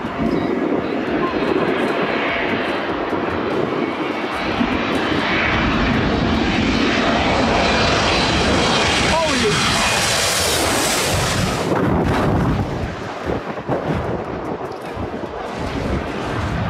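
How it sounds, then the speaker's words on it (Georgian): A jet airliner on a low landing approach at Skiathos airport roars loudly and continuously, with engine noise swelling as it passes close overhead, then easing off, mixed with wind buffeting. "ამიტომაც სკიატოსში დაჯდომის დროს თვითმფრინავები დაშვებას ბევრად ადრე იწყებენ."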